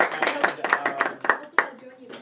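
A small audience at a grant-funding workshop claps for Edith: a quick run of sharp, close hand claps that thins out after about two seconds.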